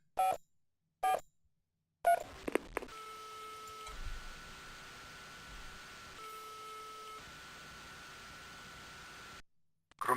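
A phone dials out over speakerphone in the spy game Spycraft: a few short tone blips, then a steady electronic line tone that holds for several seconds before cutting off.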